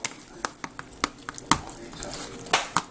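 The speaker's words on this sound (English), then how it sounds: "And you're just going to mix it with the garlic." Garlic is stirred into a butter chicken mixture with a utensil, giving irregular scrapes and taps against the pan, close by, while people talk over it.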